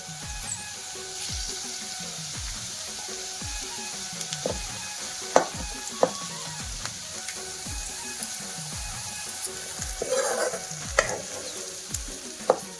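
Garlic paste fries in a pan while a Chhattisgarhi-style tomato chutney is being made, giving a steady sizzle under repeated scraping and stirring strokes and occasional sharp clicks of the spoon against the pan.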